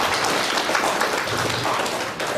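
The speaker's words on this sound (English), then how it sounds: "Give a round of clap to Abdul." Audience applause for a participant called to the stage at a code-of-ethics session: dense, steady clapping from many hands, fairly loud and continuous for a couple of seconds with no talk over it.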